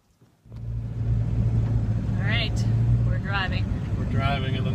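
A car is driven down the road, heard from inside as a steady low engine and road drone that rises in after a half-second of quiet, with people talking over it.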